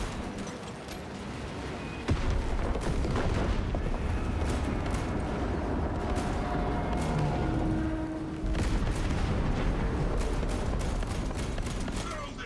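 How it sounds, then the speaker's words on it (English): Explosions from detonated charges in the Space Marine 2 video game, a dense, continuous barrage of booms and rumbling blasts with crackling bursts, loud and sustained throughout, with a brief dip near the end. "Detonate the charges now."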